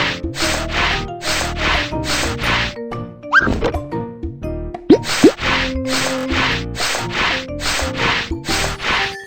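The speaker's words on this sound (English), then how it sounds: "Use sandpaper to polish the rough wood." Sandpaper polishing rough wood in the Little Panda building game: a steady, regular rubbing rhythm in repeated bursts, set against bright, loud game music with a couple of sliding tones.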